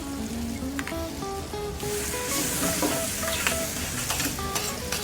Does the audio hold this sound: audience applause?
no